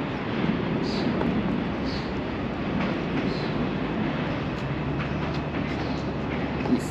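A train rumbles steadily nearby, a continuous low roar with faint clacking, holding the same loudness from start to finish.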